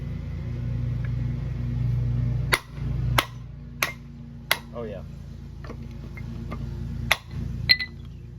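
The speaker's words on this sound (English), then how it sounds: "Just a few swings of the hammer." A hammer strikes a UTV hub bearing to knock it out with several sharp, loud metallic blows spaced about a second apart over a low background rumble, with a brief spoken remark in between.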